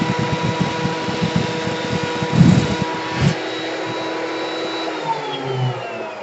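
A machine takes a very small cut across a large wooden cutting board: a steady motor drone with a couple of brief, louder bites in the middle, then the motor keeps running on its own.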